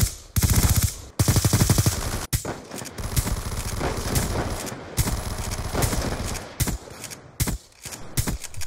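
Suppressed gunfire in a Treyarch first-person shooter: dense bursts of rapid, dull, thudding shots with short gaps, loud and close, running through the whole stretch without any voices.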